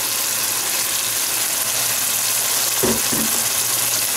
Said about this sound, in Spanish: este aderezo ha refrito por espacio de 4 minutos